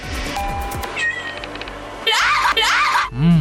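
Cat meows from a VR cat-rescue game sound out in bursts over a busy, noisy mix, with a drawn-out final meow near the end, close and fairly loud.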